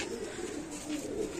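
Rampuri pigeons coo softly and continuously at close range in a Bhopal pigeon loft, a low, rolling murmur of overlapping calls.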